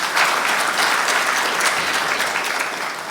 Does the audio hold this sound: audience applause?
yes